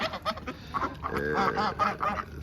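Farm ducks quack in a rapid, overlapping string of nasal calls, close and fairly loud, with a brief burst of cackling in the middle.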